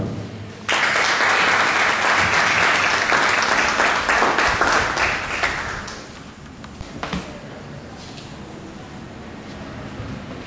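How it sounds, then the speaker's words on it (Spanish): Loud, dense clapping from an audience in a meeting hall at an environmental and sustainable development workshop, welcoming a professor; it starts abruptly, holds for about five seconds, then thins to scattered claps and taps. "démosle un fuerte aplauso al profesor Román"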